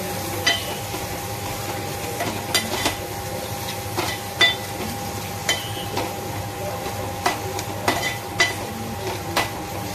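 Onion and tomato sauté in a pan with salt, a steady low sizzle under repeated sharp clinks and scrapes of a utensil against the pan, close and fairly loud.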